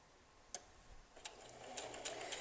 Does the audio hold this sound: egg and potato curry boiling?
no